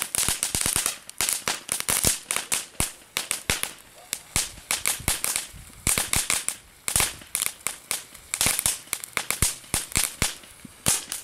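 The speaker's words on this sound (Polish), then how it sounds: "nie spodziewałem się, że ta fontanna będzie tak głośna" A small cheap firework fountain throws off dense, very loud crackling bursts, rapid irregular pops that sound almost like a string of firecrackers and go on steadily for the whole stretch with no talking.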